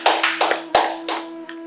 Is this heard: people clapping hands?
yes